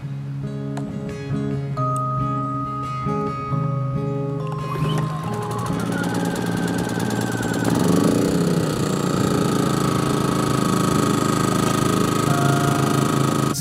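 Westinghouse inverter generator starting up after a pull on the starter cord with the choke pulled out, then settling into a steady, loud running drone while background music plays.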